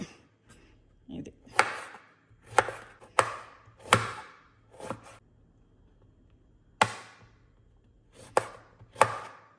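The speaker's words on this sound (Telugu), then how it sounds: "ఇది ఇవి ముక్కలు కొయ్యటం అయిపోయింది." A knife chops thick-skinned pickle fruit into pieces on a board, about ten sharp separate thuds spread unevenly between pauses, with a voice talking faintly in between.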